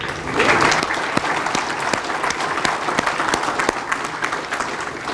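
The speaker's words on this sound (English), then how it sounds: "I want to give a little round of applause to that committee" A banquet audience at a high school athletics hall of fame ceremony claps steadily, a dense round of applause that holds at an even level for several seconds without voices.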